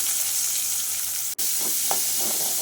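Small chopped onions hit hot oil in a pan with tempered spices, giving a loud, continuous sizzle and hiss with a brief dropout partway and a few soft stirring scrapes afterward.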